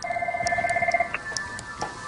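A telephone rings in the office of a newly launched hedge fund's trading floor, with steady electronic tones that hold and then cut off, followed by faint clicks and soft room noise, close and moderately loud.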